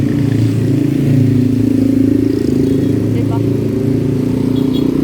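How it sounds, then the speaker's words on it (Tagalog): Heavy traffic with many motorcycles near a Philippine overpass, a loud continuous engine drone and rumble throughout, with someone talking over it. "maraming motor oh"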